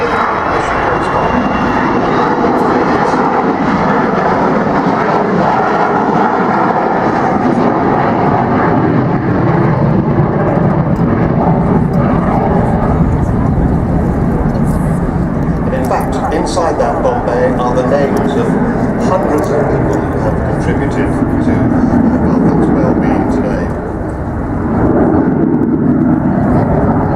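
Avro Vulcan XH558, a B2 delta-wing bomber first delivered to RAF Bomber Command in 1960, flying past at the Farnborough Airshow with a loud sustained jet roar that swells and holds, while a commentator talks over it.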